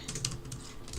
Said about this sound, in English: Typing sound effects, so enjoyable, I'm sure, on your delicious ears